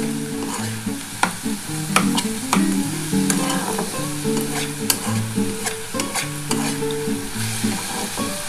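Radish greens stir-fried in a pan, with a continuous sizzle and repeated scraping and clattering of the spatula against the pan, close up and with no talk.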